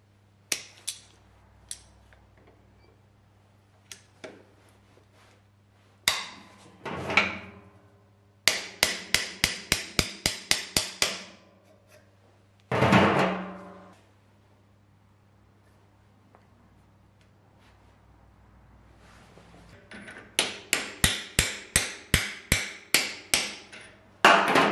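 A new gearbox oil seal is tapped into a Saab 900 with sharp metallic hammer strikes that come in quick bursts of evenly spaced taps, separated by pauses, close up and with no talking.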